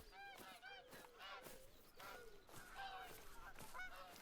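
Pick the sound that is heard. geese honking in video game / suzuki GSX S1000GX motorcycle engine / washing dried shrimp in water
geese honking in video game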